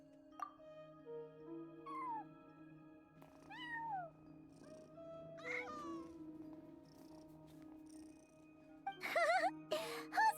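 Cat meowing in the Genshin Impact video game, several short separate meows spread over a soft ambient music bed, ending with louder, busier cries.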